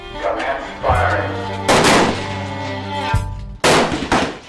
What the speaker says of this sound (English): already on the firing line. Place bolts in rifles. Commence firing.